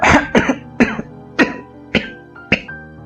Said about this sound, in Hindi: बोलते बोलते वे खांसने लगे।